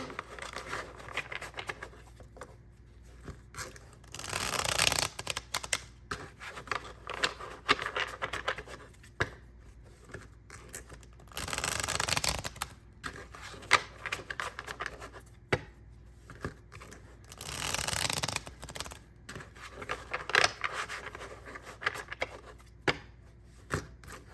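Tarot cards are shuffled in repeated bursts of riffling and shuffling, with papery rustles between them and no talking.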